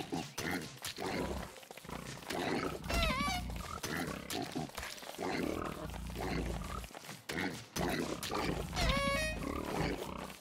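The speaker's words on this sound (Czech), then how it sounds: "To jsou dvě prasátka." Game pigs in Don't Starve Together oink and grunt in short squealing bursts around three and nine seconds, over continuous music and game sounds at a steady loud level.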